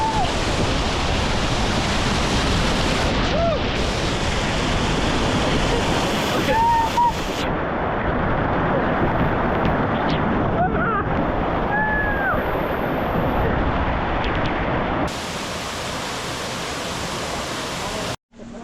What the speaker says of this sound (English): Waterfall number 3, and even Spencer got to go underneath.